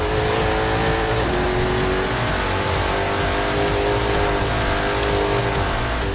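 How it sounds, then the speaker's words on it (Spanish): A race car engine roars continuously at high revs in Forza Horizon, loud and close, with gear shifts and pitch changes as it charges through corners, no talk over it. "debe llevar el coche al límite de cada curva para sostener esa velocidad"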